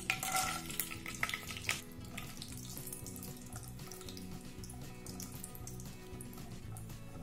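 Cashews fry lightly in hot ghee in a pan with a steady, soft sizzle and bubbling, plus a few stirring clinks early on, continuous throughout.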